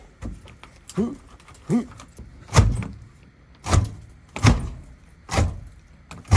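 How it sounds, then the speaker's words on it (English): A loose exterior door, its screws already removed, is pulled and pried from its frame at a hoarder house, giving a series of close wooden thumps and creaks at roughly one-second intervals with no talk. "I'm gonna see if I can just pull this door and if it'll pop out"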